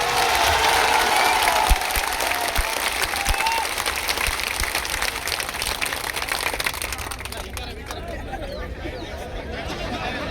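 Loud, sustained applause from a large crowd at a political rally, dense clapping that holds steady and eases off slightly toward the end.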